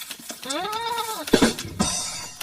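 A goat gives one clear, wavering bleat in a cartoon Bakra Eid scene, followed by brief clattering noises, close and fairly loud.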